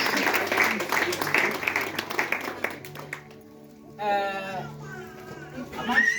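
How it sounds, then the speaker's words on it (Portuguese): A church congregation claps together during a service, loud rhythmic applause that fades after a few seconds, then gives way to singing voices and a sustained tone. "Palmas para o Senhor."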